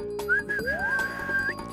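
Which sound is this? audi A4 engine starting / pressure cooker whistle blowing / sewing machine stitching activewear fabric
pressure cooker whistle blowing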